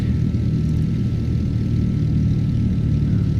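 A Cirrus SR-22T single-engine propeller plane taxiing in the flight simulator X-Plane 12 gives a steady, low, droning engine hum, close and constant, with no talking.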